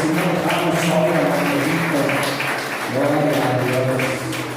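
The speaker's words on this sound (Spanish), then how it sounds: "Dale el aplauso, gloria a Dios" A church congregation claps in a steady, dense wash of applause while a voice carries over it.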